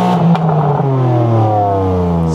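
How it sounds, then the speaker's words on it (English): A BMW M3 CS engine revs up and falls back, a loud close blip with rising and falling harmonic tones and no soft limiter cutting in. "Another rev, please."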